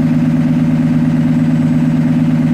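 A 2015 Cummins ISB diesel engine idles steadily during a parked regeneration with the turbo and exhaust brake engaged, giving a loud, even, continuous rumble with no talking.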